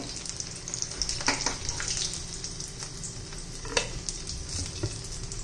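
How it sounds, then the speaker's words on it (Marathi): Egg lollipops deep frying in hot oil: continuous bubbling sizzle with soft stirring clinks and a few sharper splashes, moderately quiet and without speech. "दुसरं राहिलेलं पण तळून घेते आता"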